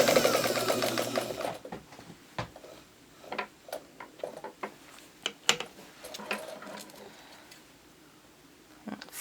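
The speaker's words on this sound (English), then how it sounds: "And sew right down that line" A sewing machine stitches a quilt block seam, starting with a short burst of fast mechanical whirring, then giving way to sparse clicks and taps with a pigeon cooing faintly nearby.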